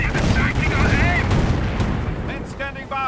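Gunfire and cannon blasts from a World War II battle in the Company of Heroes strategy game, Operation Market Garden Highway mission, as dense continuous rumbling fire with a voice speaking over the combat.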